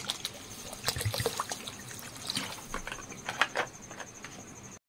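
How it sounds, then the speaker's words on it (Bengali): Water poured into a pot of sour dal, an irregular trickling and splashing with small bubbling patters, close and moderately quiet, ending in a brief cut. "ওই জন্য আর একটু জল দিয়ে দেবো"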